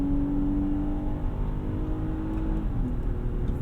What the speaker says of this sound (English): We are wide open throttle. Sounds good.